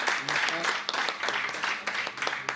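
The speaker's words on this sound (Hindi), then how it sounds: "एक बार जोरदार तालियां अशोक जी के लिए बनती हैं।" An audience applauds for Kargil war veteran Ashok at a Bhiwani gathering honouring soldiers, a dense, moderately distant wash of clapping lasting a couple of seconds.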